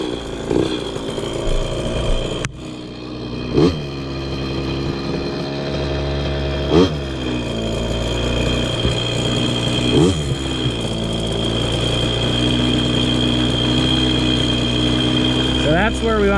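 A KTM 50 two-stroke dirt bike engine runs close by, buzzing steadily at idle with several short sharp revs blipping up and falling back, under occasional talk.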